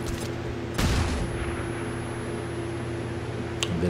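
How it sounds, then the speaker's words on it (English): Flashbang grenade and gunfire in the video game XCOM 2, a sharp burst of a blast followed by a later, fainter crack over a steady background hum, with no talk. "I think I'm going to flashbang him."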